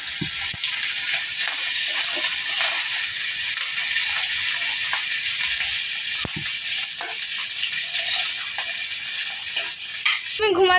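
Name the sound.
oil sizzling while frying rohu fish roe fritters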